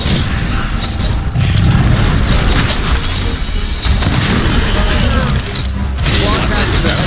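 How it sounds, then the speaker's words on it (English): Loud rumbling blast and tumbling, clattering rock debris in Monster Hunter World, a dense continuous crashing wash with heavy low-end rumble and scattered impacts throughout. "So just this massive like explosion followed by rocks falling on him."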